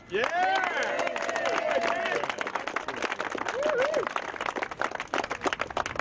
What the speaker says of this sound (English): So can I ask you all to please give Dave Altman an applause?